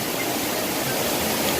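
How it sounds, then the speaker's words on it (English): Massive waterfall roaring at night, a dense, steady rush of falling water filling the air, loud and continuous with no voices. "up top of there, it's a massive waterfall"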